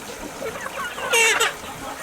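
Free-range Aseel chickens clucking and squawking nearby, a cluster of loud calls in the middle over a low background murmur of more birds from a flock of about 100.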